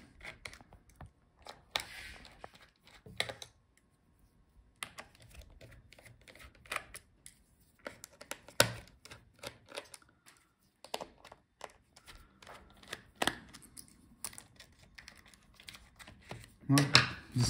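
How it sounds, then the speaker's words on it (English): Small screws being backed out of the battery of an MSI Alpha 15 B5EEK laptop, giving faint, sparse close-up clicks and light metallic taps with quiet gaps between them. "Now we can take out all the screws for the battery."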